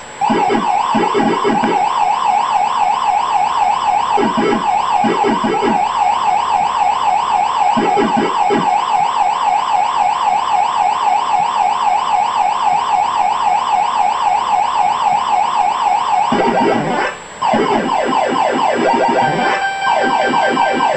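Extra life sound from the NES Pac-Man video game, a loud, rapidly warbling electronic tone repeating steadily for about twenty seconds, with short bursts of choppy chirping blips cutting in at intervals.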